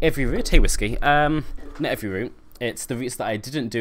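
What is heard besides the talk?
No everyday noise stands out behind the speech.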